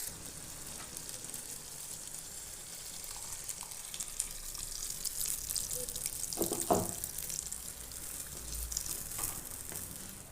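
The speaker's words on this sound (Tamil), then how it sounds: "கொஞ்சம் இது கூட தண்ணி ஆட் பண்ணிக்கலாம்." Water poured into a pan of ground curry paste gravy, a steady wash of liquid with a faint sizzle beneath and a brief louder splash midway, heard alone without any talk.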